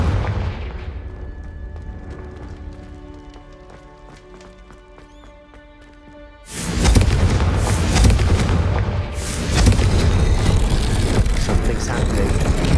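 In Hogwarts Legacy, a Confringo fire spell bursts into a sudden loud explosion after a stretch of quiet, ringing game music, followed by sustained rumbling blasts and crackle.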